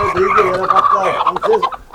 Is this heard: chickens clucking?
yes